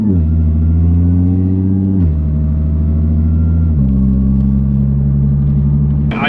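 An Audi's engine drones steadily at low revs with deep exhaust burbles, loud and close, shifting pitch twice as it drives along.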